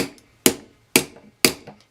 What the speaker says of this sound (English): take your hammer and hit it through about 3 or 4 times